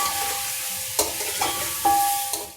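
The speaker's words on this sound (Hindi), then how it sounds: "यहाँ पर तो ये चिकन भुन रही है" Chicken fries in a pot with ground coriander and fennel powder, a continuous close sizzle broken by a few scraping stirs and clinks of a spoon against the metal.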